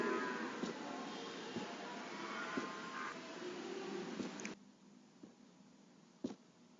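Cattle in a pen give low moos over a busy, rustling background, then the ambience drops away and a few soft thuds and one more faint moo follow at a distance.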